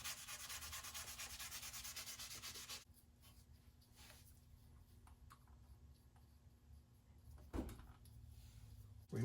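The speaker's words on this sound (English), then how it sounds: "This is like a little sandpaper sponge." A sandpaper sponge rubs over metal during a wheel bearing replacement on a Chevy Tracker or Suzuki Grand Vitara, making close, steady scratchy strokes for about three seconds, followed by quieter handling noises and a brief clunk.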